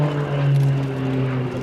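A Short S-312 Tucano T1 turboprop trainer makes a flying display pass at an air show, with a loud, steady propeller drone and a strong low engine tone that swells and then eases as it goes by.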